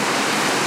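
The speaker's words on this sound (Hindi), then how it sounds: "एकदम ऐसा शावरिंग रेन हो रहा है।" Heavy showering rain pours down outdoors, a dense, steady, loud hiss that fills the whole brief moment with no voices.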